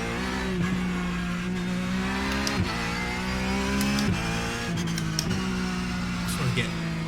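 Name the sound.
race car engine driving laps in a sim racing video game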